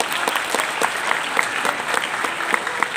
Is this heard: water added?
no